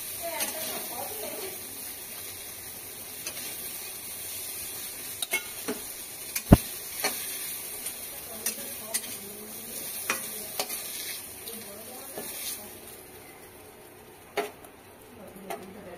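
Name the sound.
prawns frying in a pan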